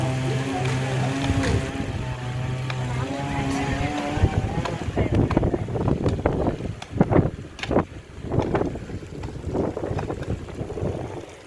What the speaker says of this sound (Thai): ลมเย็นจริงเลย